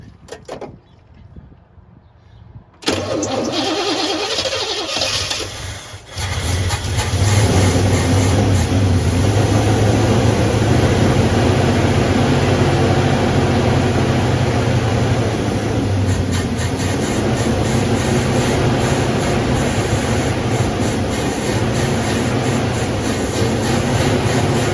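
Chevrolet C10 shortbed service rig engine firing up after many years of sitting, settling into a loud, steady, continuous running drone with a high whine on top, close by and with no talking.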